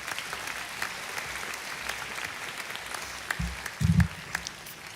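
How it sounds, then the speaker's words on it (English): A graduation audience at John F. Kennedy's 2023 ceremony applauds family members, with moderate continuous clapping spread across a large space and a couple of low thumps near the end. "let's give your family members a big round of applause"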